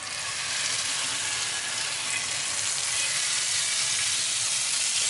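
Butter sizzles steadily in a hot pancake pan, a close, even hiss that holds without a break.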